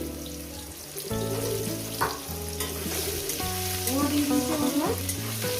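Potatoes and radish fry with kachki fish for a vegetable chorchori, giving a constant crackling sizzle with occasional stirring scrapes. Melodic background music plays throughout at similar loudness.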